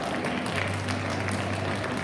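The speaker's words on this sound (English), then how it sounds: "Please give her a huge round of applause" An audience at a school's annual prize day applauds a student, steady clapping from a hall crowd with a low hum running underneath.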